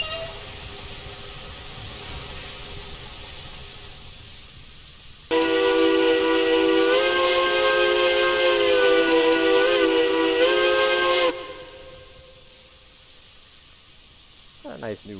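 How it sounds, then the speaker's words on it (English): A steam locomotive whistle in the railroad game Railroads Online, set in a winter Alaskan gold-rush scene, sounds one long loud chord-like blast of about six seconds, rising sharply out of a quiet background and then cutting off. "Nice new whistle, different from the typical hooters that we get."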